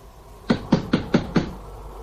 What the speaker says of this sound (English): I have knocked. I keep on knocking.